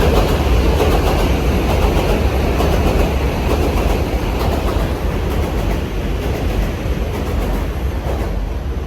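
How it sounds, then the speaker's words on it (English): New York City subway train passing in Queens, a loud, continuous rumble and roar of rolling wheels on track that stays strong throughout, heard close by with no talk. "There's the subway again."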